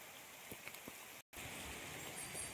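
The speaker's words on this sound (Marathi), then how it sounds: "पाऊस पडतोय म्हणून" Steady rain falls outdoors under trees where cattle shelter, a dense even patter with scattered drop hits, broken by a brief dropout midway; no voices.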